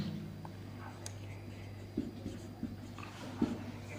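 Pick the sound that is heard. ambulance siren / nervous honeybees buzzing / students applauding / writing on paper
writing on paper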